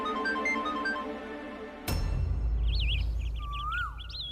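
A phone's melodic ringtone plays for an incoming call, a clear repeating electronic tune near at hand, then cuts abruptly to a different scene with chirping birds and background noise.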